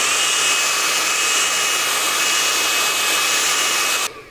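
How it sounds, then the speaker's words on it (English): A blow dryer roars with a steady, loud whooshing hiss and a faint high whine, drying hairspray on a haircut, running continuously before cutting off at the end. "Use the blow dryer to dry the spray."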